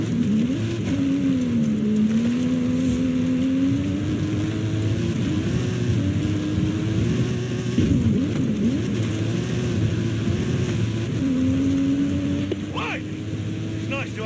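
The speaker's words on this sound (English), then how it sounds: "That stunt vehicle is a Mike Steel special." Custom-engined stunt car with modified suspension in the racing game Forza Horizon 5, its engine droning steadily and loudly throughout while rising and falling in pitch as it revs, with game dialogue mixed in underneath.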